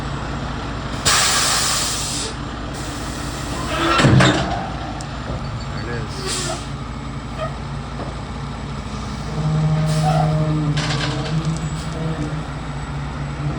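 A loud mechanical hiss and rumble of a dump truck tipping about two yards of landscaping material, with bursts of air and a clanking thud partway through, and a brief voice speaking.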